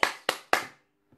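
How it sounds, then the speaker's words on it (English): Hands clap for health care workers in three sharp, evenly spaced claps close by, then a brief silence and one faint, distant clap. "You can hear clap right now."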